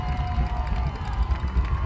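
A football stadium crowd at a high school game rumbles in a low, steady roar, distant and continuous, with indistinct voices mixed into the din.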